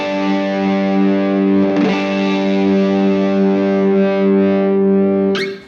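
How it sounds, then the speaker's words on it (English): Electric guitar run through an engaged Soul Food overdrive pedal, sustaining a loud, lightly driven chord that rings steadily with a brief strum in the middle and a pick scrape before cutting off, alone without talk. "So first thing it goes to is our first overdrive, which is a Soul Foods."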